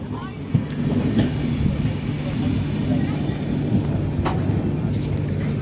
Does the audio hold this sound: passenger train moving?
yes